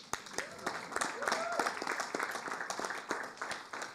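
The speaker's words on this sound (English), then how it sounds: "Give him a round of applause." An audience at a city council meeting claps in a brief round of applause, moderately close and steady for a few seconds, while a voice talks over it.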